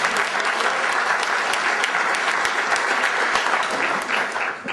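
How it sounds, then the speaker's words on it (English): Audience applause at a speech on economic figures, dense steady clapping from a large crowd that holds for several seconds, alone without talk. "I think it deserves some round of applause."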